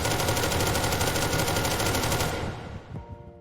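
Crossvec rifle in the video game SCP: Secret Laboratory firing one long continuous full-auto burst, loud and even for over two seconds, then cutting off into a fading tail.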